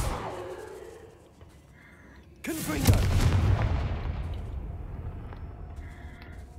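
Confringo fire spell cast in Hogwarts Legacy: a sudden booming blast with a whooshing burst and a long rumbling tail, after a quieter stretch of game ambience.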